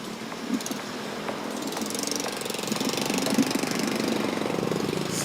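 Motorcycle engine idling before a ride through empty city streets during a community quarantine, a close, steady low rumble with rapid pulsing that swells slightly toward the end.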